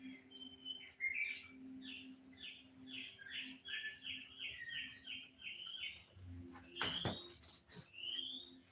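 A toucan calling in the forest, with a steady run of repeated, evenly spaced chirping notes at moderate distance, then a sharp knock and a few more calls over a soft, constant background.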